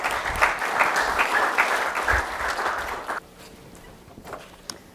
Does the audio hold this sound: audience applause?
yes